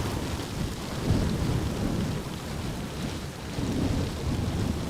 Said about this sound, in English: Storm umbrella getting a beating by the wind.